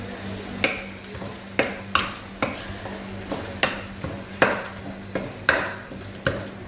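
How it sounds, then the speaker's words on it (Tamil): Masala sautéing in oil in a pan, stirred with a spoon that knocks the pan in a steady rhythm about once a second, sharp close taps over a low continuous sizzle. "இது நல்லா வதங்கி எண்ணெயில் கொஞ்சம் வதங்கணும்."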